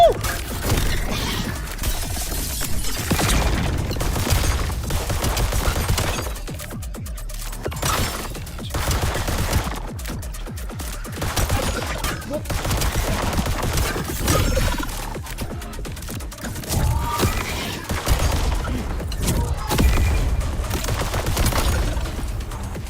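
Bullets fired in a shooter video game crackle in dense, continuous bursts with crashing impacts, loud and relentless throughout, with occasional brief lulls between volleys.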